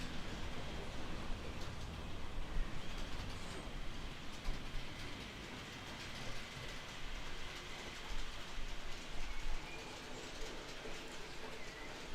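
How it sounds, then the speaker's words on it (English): Model railway trains run around a layout with a steady, soft rumble and fine clattering of wheels on track, continuous and fairly faint, with no voices. "Can't be actually sitting and watching the trains going round."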